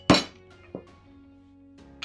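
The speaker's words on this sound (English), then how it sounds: "I'm just gonna take a nail, I'm gonna punch through the metal here" A nail is struck to punch holes through sheet metal while building a DIY gumball machine, giving one sharp metallic clink followed by fainter taps, close up in a quiet room.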